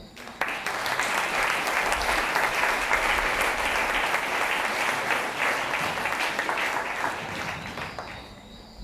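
A theatre audience at a live show breaks into sustained applause, dense even clapping that carries steadily for several seconds before thinning slightly near the end.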